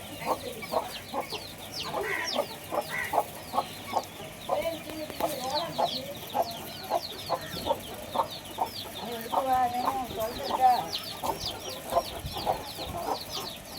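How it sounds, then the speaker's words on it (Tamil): Country chickens and their chicks cluck and peep repeatedly at close range. Bursts of calls come in rapid, uneven succession, and faint background noise runs underneath. "இது கோழி குஞ்சு."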